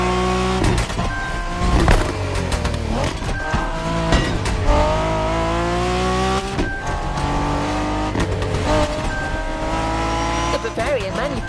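A BMW Z4 M40i roadster driven in The Crew Motorfest, its engine droning and rising steadily throughout with shifting revs and occasional tire noise, a voice speaking over it.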